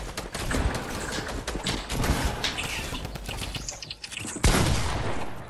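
Rapid bursts of gunfire in Fortnite Creative mode, dense overlapping shots crackling nonstop at close range with a louder blast near the end.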